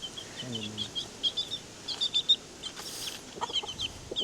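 Farmyard chickens in the Philippines, hens and three-week-old young roosters, clucking and chirping in quick irregular calls near and at middle distance, with one brief louder squawk.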